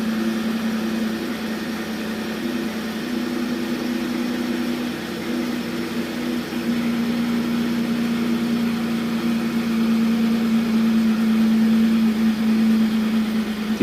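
A 2009 Pontiac Torrent engine idles steadily after being restarted, its low droning hum continuous and even with no voices over it.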